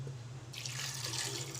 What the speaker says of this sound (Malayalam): 2 ഗ്ലാസ് വെള്ളം ഒഴിച്ച്